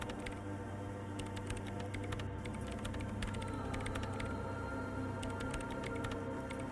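Keyboard typing in the video game Disco Elysium: a rapid, irregular stream of light key clicks over a steady low background hum, continuing throughout at a moderate, even level.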